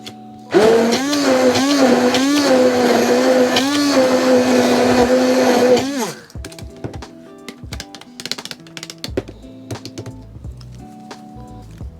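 A blender pureeing tomato into pizza sauce runs loud and close with a whining motor pitch for about six seconds, then stops, leaving scattered clinks and handling noises.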